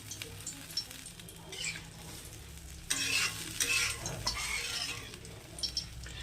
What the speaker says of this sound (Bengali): এবার আমি ওর মধ্যে কটা কাঁচা লঙ্কা দিয়ে দেবো ছেঁড়া